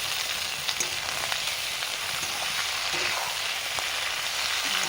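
Cauliflower stems and a potato hiss and sizzle steadily in hot oil in a pan alongside lightly fried brinjal, a continuous close crackling frying sound with no pauses.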